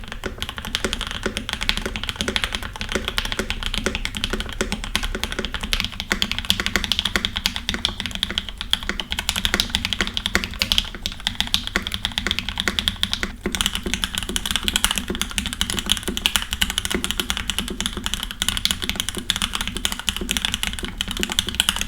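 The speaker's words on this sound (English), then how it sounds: "I'm gonna try building it up with some NK creams and also some Oil Kings just to get a different feel and sound on the board" Steady mechanical keyboard typing on a board fitted with NK Cream and Oil King switches, a dense continuous run of close, crisp keystrokes with no talking.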